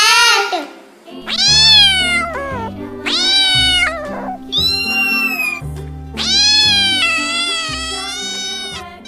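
Several loud, drawn-out cat meows in a row over a soft, steady musical backing in a preschool alphabet lesson.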